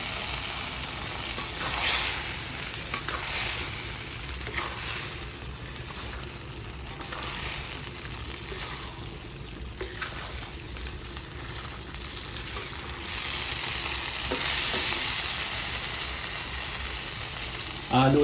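Beef chunks for a beef caldereta sizzle and crackle in a hot pot while being stirred, a steady frying hiss with occasional scraping, fairly close and with no talking.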